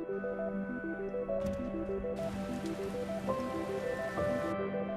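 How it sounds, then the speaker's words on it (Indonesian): Light rain drizzles steadily through a quiet night, a soft continuous patter on surfaces that runs alone without any voices, under a low sustained musical drone. "di malam hari yang sunyi dan gerimis"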